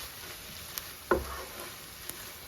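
Chilli and turmeric powder sautéing in oil in a pan for Kerala-style prawn roast: a faint, steady sizzle with a single louder scrape of stirring near the middle and a couple of tiny ticks.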